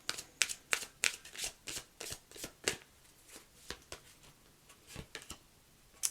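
Tarot cards shuffled by hand close up, a steady run of crisp riffling snaps and soft taps in an uneven rhythm, with no voice.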